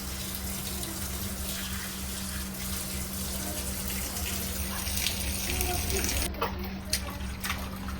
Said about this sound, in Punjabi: ਸਾਫ਼ ਪਾਣੀ ਵਿੱਚ ਚੰਗੀ ਤਰ੍ਹਾਂ ਇਹਨੂੰ ਮੈਂ ਧੋ ਲੈਣਾ ਪਾਲਕ ਨੂੰ